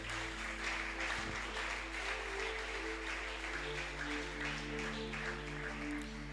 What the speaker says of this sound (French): Nous allons nous asseoir en acclamant très fort le Seigneur